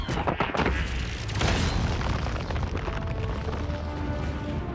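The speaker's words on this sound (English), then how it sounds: "he sent an explosion in his place" An explosion sound effect hits with a loud booming blast, followed by a dense rumbling roar and crackling debris that stays heavy for several seconds.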